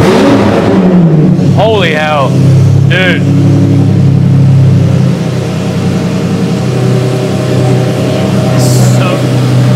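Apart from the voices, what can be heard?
V12 supercar engine starting up and revving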